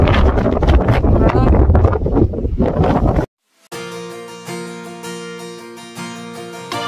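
Heavy wind on the summit of Mount Timbak in Luzon buffets the microphone with loud roaring gusts for a few seconds, then cuts out abruptly and music begins.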